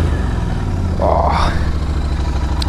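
Brand-new Royal Enfield Continental GT motorcycle fired up for the first time in a dealership, its engine settling into a steady low, continuous thrum beneath a brief spoken exclamation.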